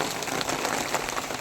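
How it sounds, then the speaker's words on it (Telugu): Heavy rain falls at Araku waterfalls, a steady, even hiss of drops striking surfaces with no one speaking. "వర్షం పడుతుంది"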